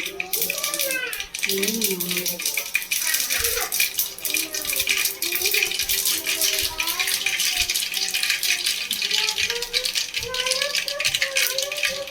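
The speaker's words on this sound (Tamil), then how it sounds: "கடுகு பொரிஞ்சிருச்சு." Mustard seeds spluttering and popping in hot oil in a pan, a dense steady crackle throughout, heard under a person talking while cooking.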